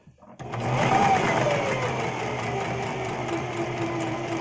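Sewing machine stitching fabric, starting up after a brief moment of handling and then running as a steady, close mechanical hum and rapid needle chatter.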